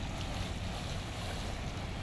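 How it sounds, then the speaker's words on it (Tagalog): Water gushes up along the shore at Manila Bay's Dolomite Beach in a loud, continuous, rushing roar mixed with wind buffeting, with no voices. "biglang bumulwak yung tubig dito"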